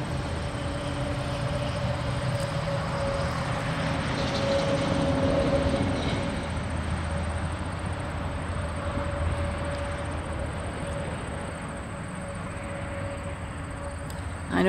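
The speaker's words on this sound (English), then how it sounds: "I know the train is going to go to the right of me" A train rumbles steadily past at moderate distance on the L'Anse Hill, a continuous low roar of rail noise with a faint tonal hum throughout.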